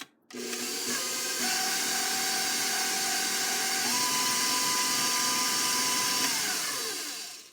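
Electric mixer whirring steadily in a bowl of butter and sugar for sugar cookie dough, a loud continuous motor drone with shifting pitch, close and alone without voices.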